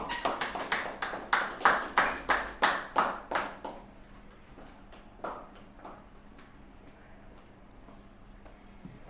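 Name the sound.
audience applause welcoming the speaker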